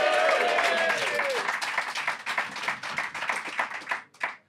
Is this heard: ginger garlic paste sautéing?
no